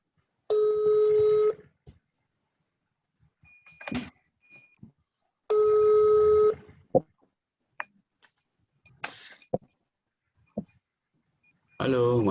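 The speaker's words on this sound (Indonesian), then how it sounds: "Pak Guru telepon Mas Wahyu dulu" Two long telephone tones separated by short clicks and small handling noises, then a few sharp beeps and taps, all fairly close and without talking.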